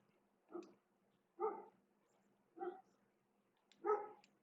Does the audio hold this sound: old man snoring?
no